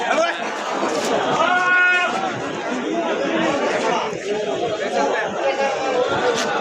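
Goats bleat at the Tebaria livestock market in Natore. Several bleats rise over dense crowd chatter and nearby talking, with one clear call standing out near the middle.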